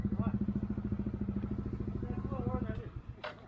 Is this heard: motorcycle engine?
yes